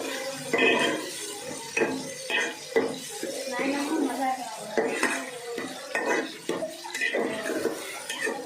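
A spoon scrapes and clanks around a pot of Nellore-style fish curry with raw mango pieces, in repeated rhythmic strokes, close and fairly loud, with a brief cough in between.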